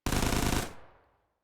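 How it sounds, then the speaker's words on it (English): A UDP-9 submachine gun from a Minecraft gun mod, an Armalite-style 9x19 Parabellum weapon with a high fire rate, fires a rapid burst of about half a second, loud and close, and the report then fades out over the following half second. "the UDP-9 basically looks like the submachine gun variant of the Armalite platform"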